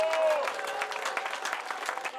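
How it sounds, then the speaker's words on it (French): Crowd applauding riders at the start of the 2019 Paris-Brest-Paris randonneur event, 1,219 km, with special bikes present; dense, steady clapping close by, with a brief whistle-like tone at the start and voices faintly mixed in. "Allez, on les applaudit très très fort,"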